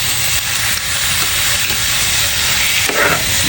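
Squid goes into a hot pan with browned garlic and onion, making a loud, dense, unbroken hiss of sizzling oil close by, with no voices.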